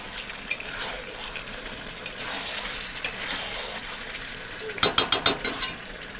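A spoon stirs chicken biryani in a pot after slow covered cooking on low heat, with faint scraping at first and then a quick run of rhythmic metallic scrapes near the end.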